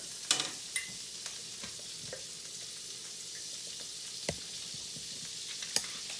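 Butter and olive oil sizzling in a pan while cooking creamy chicken and mushroom, a steady close hiss with scattered small pops and light utensil taps.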